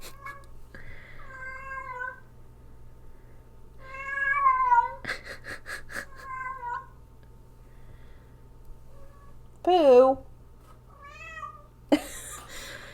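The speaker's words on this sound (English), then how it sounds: "And my cat's about to scream her head off." Indoor house cat meowing loudly in a series of drawn-out, rising and falling cries, with pauses between calls and a harsher, strained yowl near the end; a brief spoken word is heard.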